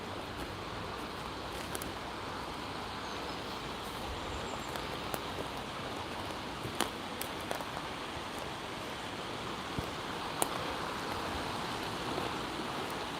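Steady rain pours down outdoors on a morning walk, a dense even hiss with occasional louder drips and taps, continuous throughout and without talk.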